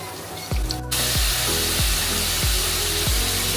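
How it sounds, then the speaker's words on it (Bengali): Potatoes hit hot oil seasoned with cumin and a bay leaf, bursting into a loud, continuous sizzle close by, with faint rhythmic clinks under the hiss. "তেজপাতা দেওয়ার পরে এর ভেতরে আমরা আলু অ্যাড করে দিলাম। আলুটা আমরা ভালো করে ভেজে নেব।"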